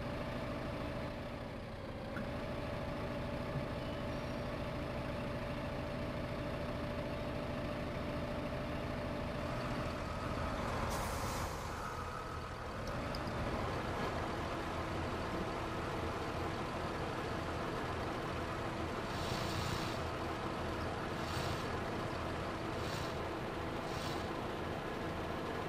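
A pickup truck engine in Farming Simulator 2015 drones steadily at idle and low revs, shifting pitch as it moves, with a few brief higher tones near the end and no voices.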